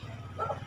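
A dog gives one short, yipping bark over a steady low hum, brief and moderately close, with no other sounds around it.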